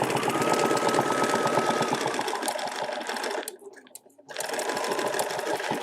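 A sewing machine stitches a feather plume along a template in a fast, steady mechanical whir. It cuts out briefly near the end, then starts up again, close and loud.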